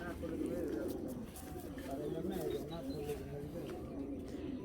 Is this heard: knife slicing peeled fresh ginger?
no